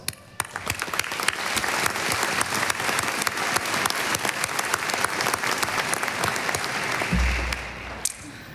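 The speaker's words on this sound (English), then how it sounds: "give yourself a big round of applause" Loud, sustained applause from a large audience at a dental school commencement ceremony, steady clapping that fills the room for several seconds before tapering off near the end.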